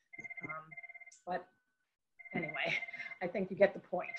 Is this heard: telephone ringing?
yes